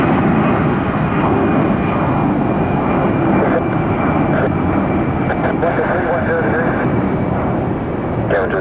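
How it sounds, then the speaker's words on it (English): A fixed-wing airliner roars down runway 28 at Tampa International on its takeoff roll, a loud, sustained engine rumble with a steady whine, heard close and continuous while radio voices talk over it. "runway 28 cleared. Takeoff."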